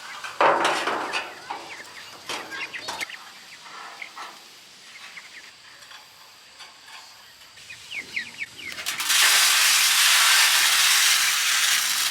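Chickens cluck and chirp around a chicken tractor over steady background noise, and a loud, harsh hiss takes over for the last few seconds.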